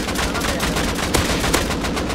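Sustained, rapid automatic gunfire in the survival video game Rust, a dense unbroken stream of loud shots with a couple of sharper cracks standing out, no talk over it.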